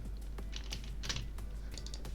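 Rapid computer keyboard clicks from a player in a Minecraft Bedwars match, irregular bursts of close, crisp key taps over a steady low hum, with no talking.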